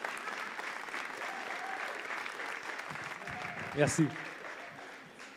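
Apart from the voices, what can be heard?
audience applause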